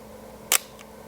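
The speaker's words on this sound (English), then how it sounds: "This camera has a very quiet shutter." A single quiet shutter release of a rangefinder film camera with film loaded, held close: one soft, brief click followed by a fainter second tick, alone in a quiet room.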